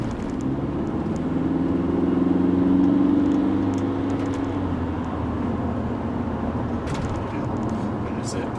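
An Audi A4 Cabriolet B7 with a 2.0 TDI diesel and Multitronic gearbox cruises at about 30 mph in fourth gear, a steady low engine hum and road rumble that swells briefly before settling.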